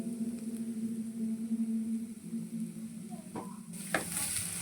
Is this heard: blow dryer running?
no